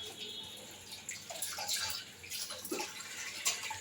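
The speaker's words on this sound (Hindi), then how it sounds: "साथ ही मैं बर्तन भी धो लूँगी" Dishes are washed by hand under a running kitchen tap in a Pakistani household, with steady water flow and clinks and splashes from handled utensils over a few seconds.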